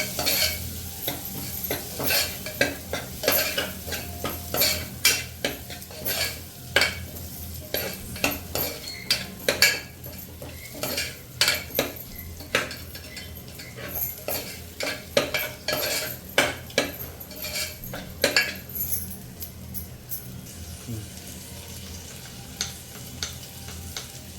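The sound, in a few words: stirring and roasting sweet corn in a pan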